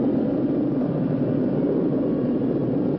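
Spaceship engines in a 1960 science-fiction film roar as a dense, steady rushing drone, loud and unbroken for several seconds before cutting off abruptly at the end.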